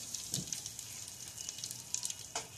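Faint, steady sizzling of asafoetida dropped into hot oil, a soft continuous crackle with a few sharper pops.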